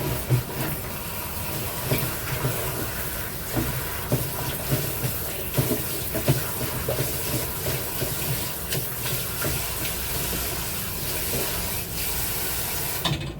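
Tap water runs into a sink to soak something in a kitchen, a steady close splashing stream lasting throughout with occasional clinks.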